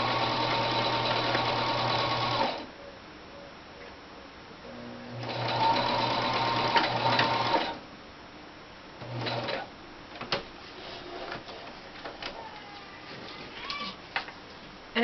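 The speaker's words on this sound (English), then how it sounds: "So I'm just going to straight stitch over this, back and forth a couple of times." A sewing machine straight-stitches fabric in steady bursts of rapid stitching, back and forth, stopping and starting, followed by quieter clicks and handling noises between runs.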